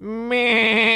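A single drawn-out goat bleat, loud and close, with a wavering, harmonic tone that rises in strength partway through and holds steady until a sudden stop. It sits inside a Hindi children's song about animal sounds, and it may be a voice imitating the goat.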